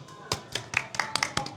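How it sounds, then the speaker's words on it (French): A few hands clap in a quick, loose burst of about eight sharp claps, close and fairly light. "On peut applaudir."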